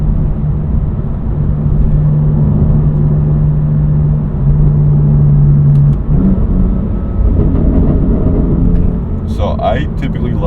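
A BMW M4 GTS drones and rumbles at a steady cruise with a low, sustained engine and exhaust note heard from inside the cabin, easing off near the end.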